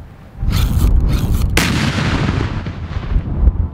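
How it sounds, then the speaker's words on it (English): A high explosive charge of one kilo detonates against a tree, giving a loud, deep, sustained blast with a sharp crack partway through and rumbling debris that fades out over several seconds. "One kilo of explosive produces a very large explosion and totally sheared the tree off like it was nothing."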